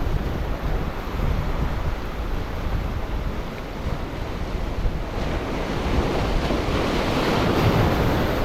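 Steady wind roaring by the sea, with surf washing continuously underneath and gusts buffeting the microphone throughout.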